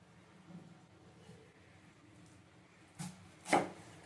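A knife cutting through a peeled squash on a board: quiet scraping first, then two sharp chops close together near the end, the second one louder, with no talking.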